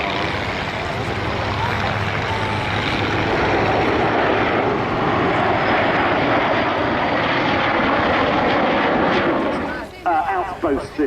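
A PR9 photo reconnaissance aircraft roars past at an airfield airshow in Dunsfold, its loud, broad engine noise sustained for about ten seconds before dropping away into a few fainter, broken gusts.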